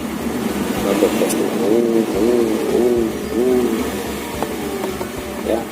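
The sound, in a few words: manual car engine revving as the gas pedal is pressed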